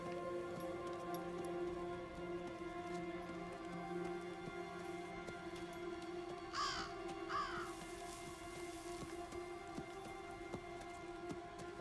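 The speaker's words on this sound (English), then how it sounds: "Hello, Mr. Crow or Raven." Two short crow or raven caws ring out in Diablo 4 over steady rain and a low ambient hum, the bird calls sharp and moderately distant, with no voices.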